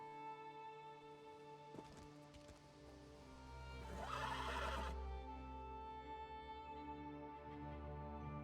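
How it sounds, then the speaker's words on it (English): A horse in the Elder Scrolls Online video game gives a loud, drawn-out whinny in the middle, set over a steady low in-game drone and faint hoof clops. "Come, I acquired horses to speed us on our journey."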